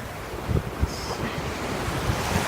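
Sea waves wash onto a beach, a soft continuous surf hiss mixed with light wind noise, fairly quiet and with no voices.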